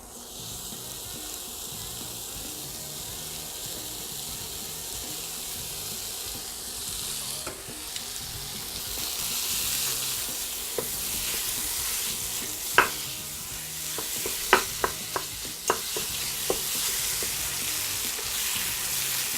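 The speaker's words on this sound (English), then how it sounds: "let's cook it up and see what it looks like." Homemade chorizo, pasty and high in fat, sizzles steadily in a pan for a long stretch, with a constant frying hiss and scattered sharp pops and spatters growing more frequent toward the end.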